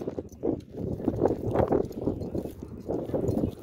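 Horses race by in an alaman, a long-distance 25 km horse race, their hooves pounding in a rapid, rolling drumming that rises and falls, fairly close.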